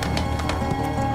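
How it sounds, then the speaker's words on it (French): Mustang horses are close by, with rapid thudding hooves and a brief whinny. The burst is short and fairly loud. "Ce sont des Mustangs."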